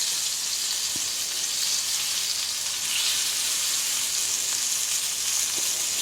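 Blackened steak searing in a hot pan, a loud, steady hiss and crackle of sizzling fat that runs unbroken throughout, close and without any talk.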